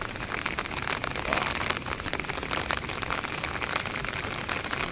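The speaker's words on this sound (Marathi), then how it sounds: "पाऊस पण आला जोरान." Heavy rain pours steadily outdoors by a river, a dense continuous hiss of drops pattering on surfaces for the whole stretch with no talking.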